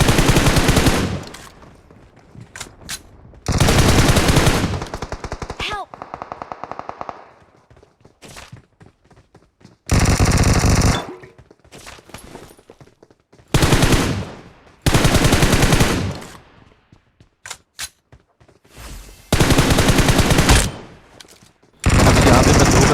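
Bursts of automatic gunfire erupt in a battle royale video game, loud, close rattling volleys broken by short pauses, with softer single shots and thuds between them.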